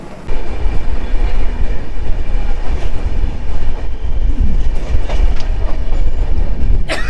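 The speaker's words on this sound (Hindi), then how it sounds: "बालेश्वर से ट्रेन डिपर्चर हो चुका है हम लोग का" The Coromandel Express pulling out of Balasore station on the Kolkata to Chennai run, heard from aboard as a loud, steady rumble of wheels and carriages with faint clatter throughout, ending in a sharp metallic screech.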